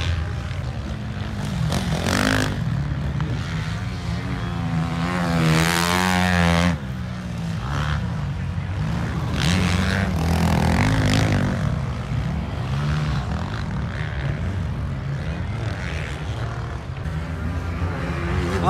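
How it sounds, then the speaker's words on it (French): A 500cc motocross bike screams under hard revving, its pitch sweeping up and down with sharp surges from clutch stabs, loud and close, as another engine passes. "Oh, les coups d'embrayage."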